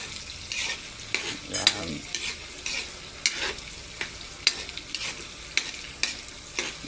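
Water spinach and tofu stir-frying in a pan give off a steady sizzle broken by repeated scraping and stirring strokes, close and fairly loud, with no talk.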